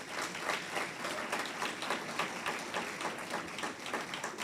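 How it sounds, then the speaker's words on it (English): Audience applause at a stroke symposium held by the Barbados Physical Therapy Association, a steady, dense clapping from a room full of people that keeps up evenly for several seconds with no talk over it. "Give them a round of applause."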